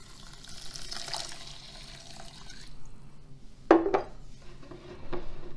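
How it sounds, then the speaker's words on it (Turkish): Boiling water pours from a kettle over rice in a wide bowl: a soft steady trickle for a few seconds, then a couple of sharp close clinks of dishware and quieter handling noises. "Üzerine kaynamış su ilave ediyorum."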